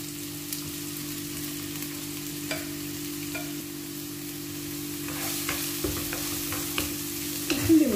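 A spiced sauce of red pepper, ras el hanout and salt heats in a little oil for homemade tacos, giving a faint steady simmer and occasional stirring, louder near the end.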